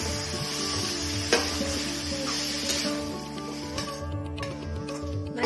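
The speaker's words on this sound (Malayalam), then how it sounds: "ഇനി ഇതെല്ലാം കൂടി ചേർത്ത് നമുക്കിത് നല്ലതുപോലെ ഒന്ന് ഇളക്കി ചേർക്കാം." Raw green plantain tossed with turmeric powder in a pan makes a steady close sizzling hiss with scraping stirs and one sharp knock, fading somewhat toward the end.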